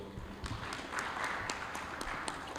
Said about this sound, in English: I think we need to give Chairman Frey another round of applause